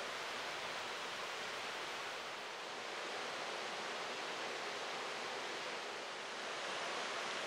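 Tannery Brook rushes through a long rock gorge below Tannery Pond in an old-growth forest, a steady broadband wash of flowing water that stays even and unbroken throughout, with no voices.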